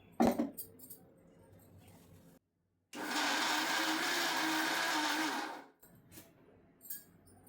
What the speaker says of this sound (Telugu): ఇలా గ్రైండ్ చేసుకున్న ఈ పప్పుల్లోకి మనం వేయించి పెట్టుకున్న మునగాకును వేసేసి గ్రైండ్ చేసేసుకుందాం